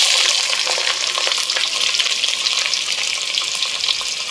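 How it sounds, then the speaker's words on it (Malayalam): Three long-sliced onions fry in hot oil for a pork and koorka dish, a loud, dense, continuous sizzle with light stirring crackles throughout and no voices. "എണ്ണ ചൂടായി വരുമ്പോഴേക്കും ഒരു 3 സവാള ഇതുപോലെ നീളത്തിൽ അരിഞ്ഞത് ചേർത്ത് കൊടുക്കാം."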